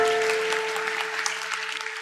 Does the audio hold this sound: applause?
yes